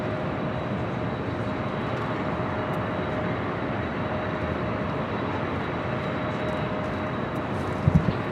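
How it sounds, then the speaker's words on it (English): A 25-year-old Delta Boeing 767-300ER departs LAX, its engines a steady, distant low roar and broad rumble that holds evenly throughout, with a faint knock near the end. "Again, this Delta flight heading to Honolulu, a 25-year-old 767-300ER, flight 465."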